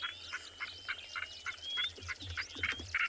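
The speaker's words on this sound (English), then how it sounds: "You can hear quite a bit of eastern clapperlarks." At sunrise on a safari, eastern clapper larks and a northern black korhaan call. A steady series of about ten raucous, rhythmic bird calls repeats roughly every quarter second at moderate distance, with a rising whistle woven through.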